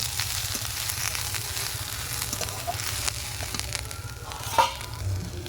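Grated carrot and shredded cabbage frying in a pan, a continuous close sizzle with occasional spatula scrapes and one sharp clink near the end, no voices.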